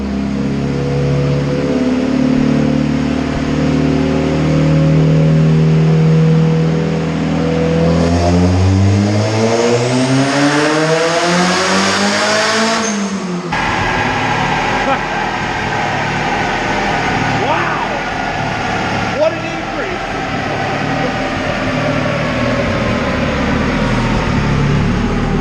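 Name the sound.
turbo Honda CR-V engine revving on dyno, open header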